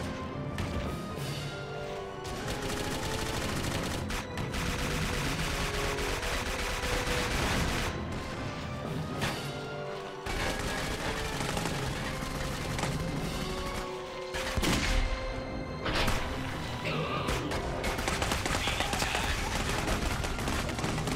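Dense enemy gunfire rattles almost without pause in the shooter game Clive Barker's Jericho, with bursts of automatic fire, heavy impacts and crashes layered loud and close throughout.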